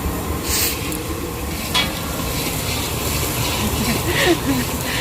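Fish curry bubbles and sizzles steadily in a pan in a home kitchen, a continuous frying hiss with occasional stirring scrapes, close by and moderately loud, with faint voices in the background.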